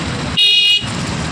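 A vehicle horn blares once loudly for about half a second amid heavy road traffic near the Musi river, with engine rumble before and after.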